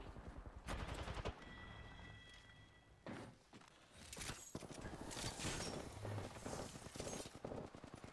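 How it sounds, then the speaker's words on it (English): Burst-fire gun shooting in the battle royale game Apex Legends, with sharp clustered volleys of shots, thuds and scattered combat noise coming in irregular bursts, some near and loud. "Oh, this is a burst fire?"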